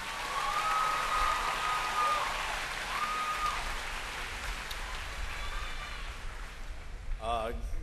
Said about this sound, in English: Please join me in a round of applause for Fort Pierce Central's valedictorian